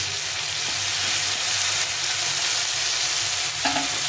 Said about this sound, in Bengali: মশলাটা সুন্দরভাবে ভেজে নেবেন